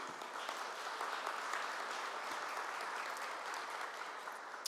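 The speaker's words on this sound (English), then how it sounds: "Thank you for the applause." Steady applause from a crowd after a minister's speech, dense and even throughout, with no voices standing out.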